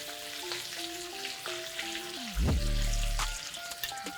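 Strong, steady sizzling from chicken in olive oil in a hot frying pan swells up suddenly partway through, over faint background tones and light clatter.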